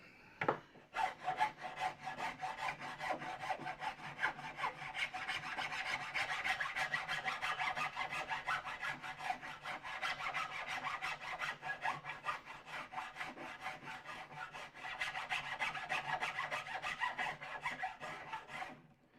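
A file rasps back and forth across a wooden bench leg in steady, continuous strokes, close and fairly quiet, with only a brief pause partway through.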